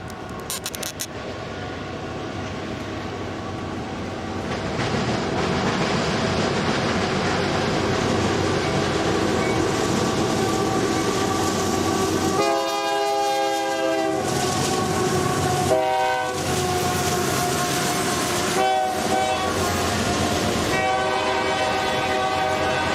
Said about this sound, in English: we have a UP eastbound loaded coal train who hits the diamond hot and blasts